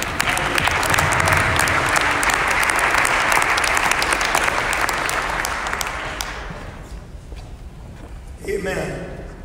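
A church congregation claps in praise, loud dense clapping that swells and holds for several seconds, then fades off, with a voice rising briefly at the close.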